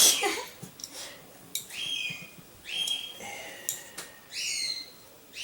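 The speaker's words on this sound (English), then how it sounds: "I hear my bird is upstairs." A pet bird calls from an upstairs room during a home computer build, giving several short, bright whistled chirps in separate bursts, faint and somewhat distant, with no talk over them.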